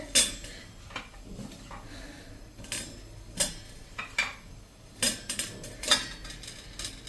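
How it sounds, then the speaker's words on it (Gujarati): Metal dishware clatters as a perforated plate is set over sweet potatoes in a pot for steaming, with several sharp clinks and knocks spaced irregularly, close by and without speech. "અને એની ઉપર આપણે હોલવાળી ડીશ મૂકી દેશું"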